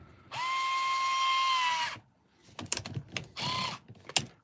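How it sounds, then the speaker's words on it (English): A powered driver whirs steadily for over a second while bolts are tightened on a 3D printed cantilever kit for a TRX4, then ratcheting clicks, a second shorter whir and a sharp tap, close up. "we're just going to do up some of the bolts that he hasn't actually done up."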